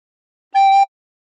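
A single sustained recorder note played with the thumb hole and the first three finger holes covered, held for about a third of a second as a clear, steady tone alone in silence.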